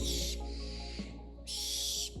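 Two owls in a tree beside a campfire at night give harsh, hissing screeches, two loud close bursts separated by a short pause, with no talk.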